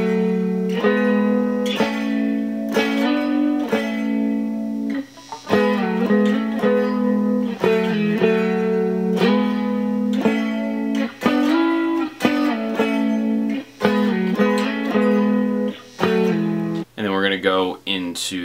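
A distorted electric guitar plays a riff slowly, sustained chords and picked notes ringing one after another, up close with no talk over it.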